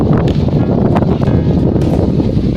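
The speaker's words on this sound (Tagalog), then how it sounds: "Malakas ang hangin." Loud, continuous wind buffeting the microphone with a rough, low roar throughout.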